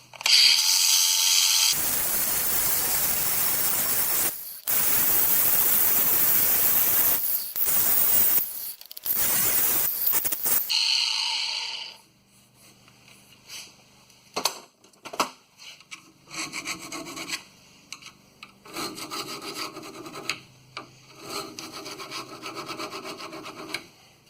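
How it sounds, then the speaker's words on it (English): A flap wheel grinds on the 8.8 rear differential axle of a 2008 Ford F-150, giving a loud, harsh, continuous abrasive roar for several seconds before breaking into shorter, quieter bursts of scraping with pauses between them. "I decided to go get a flapper wheel a little bit."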